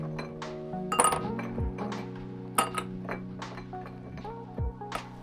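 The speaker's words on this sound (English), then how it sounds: "So, we start by putting ice in our glass." Ice cubes dropped into a cocktail glass for a breakfast Old Fashioned, giving several light clinks and glassy taps spread over a few seconds, close by, over a steady low background hum.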